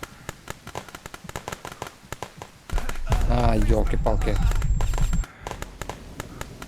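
Rapid gunshots and blasts crackle through the shooter game Glory To The Heroes, with a heavier, sustained roar of explosions in the middle, while a man exclaims over the action.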